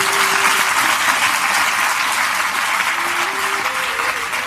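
An audience at a devotional satsang gathering claps in dense, continuous applause throughout, loud and close, with faint tonal sounds beneath.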